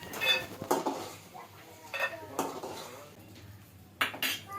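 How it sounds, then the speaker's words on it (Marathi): Peanuts frying in a pan for poha, with a metal utensil clinking and scraping against the pan in a few sharp knocks and a steady low kitchen background. "सुरुवातीला शेंगदाणे तळून घेते"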